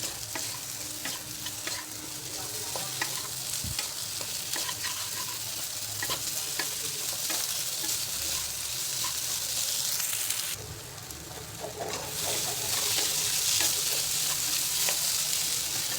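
Finely chopped potato frying in a pan while being stirred, with a constant close sizzle and repeated scraping strokes of the spoon; the frying briefly quiets near the end before the sizzle swells again, with no speech.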